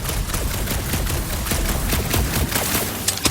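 Rapid, continuous bursts of blaster gunfire fill a combat scene in Marvel's Guardians of the Galaxy video game, loud and close with dense overlapping shots and no pauses.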